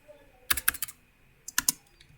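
Two quick bursts of computer keyboard keystrokes while Python code is entered, crisp and close, each burst a rapid run of four or five clicks with a short pause between, no voice.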